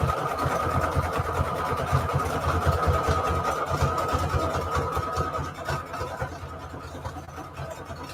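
Steady, rapid mechanical whirring of a sewing machine stitching a paper star, close and continuous, easing slightly toward the end.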